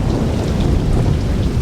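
Torrential monsoon downpour on a dark night, a dense, loud, unbroken roar of rain with deep thunder rumbling underneath and no voices.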